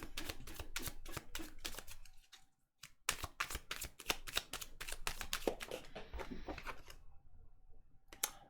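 Tarot cards being shuffled in repeated rapid riffling bursts, crisp and close, with a brief pause midway and no talking.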